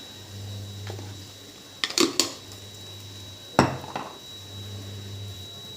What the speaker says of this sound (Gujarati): આપણે હવે સારી રીતે બધું ફરી મિક્સ કરી લઈશું લીંબુ ખાંડ ગરમ મસાલો બરાબર મિક્સ કરી લઈશું